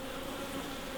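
A dense, steady drone of honeybees fills a wintering hive, close and continuous without a break across a brief moment.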